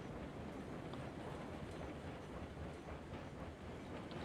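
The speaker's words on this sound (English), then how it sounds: "let the train run as fast as it possibly can to the bottom" Freight train with heavy, fully loaded hoppers rolling downhill at speed in the Railroads Online video game, giving a steady, dense rumble with faint clattering throughout and no talk.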